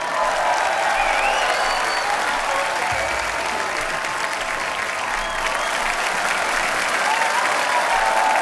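Studio audience at a Hindi comedy talk show applauding guests onto the stage, sustained loud clapping filling the room evenly for several seconds without letup.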